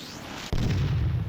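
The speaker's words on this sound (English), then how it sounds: "Okay, it's not that impressive an explosion." A game explosion blows open the monastery front gates in Clive Barker's Undying, hitting as a sudden loud boom and then a sustained low rumbling roar that keeps going to the end.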